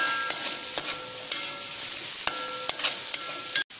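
Beef being sautéed for a dry roast, stirred in a hot pan: steady close sizzle broken by regular spatula scrapes and clicks, with a sharper knock near the end.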